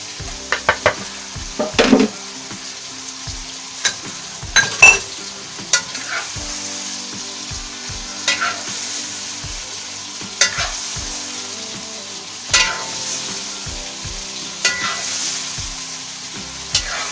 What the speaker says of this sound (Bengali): বেগুনগুলো ভাজা হতে থাক